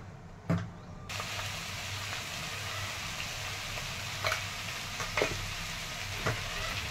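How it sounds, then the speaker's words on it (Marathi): Potatoes fry and sizzle steadily in a pan, a constant quiet hiss broken by a few light clinks of a utensil. "बटाटे हे परतलंय"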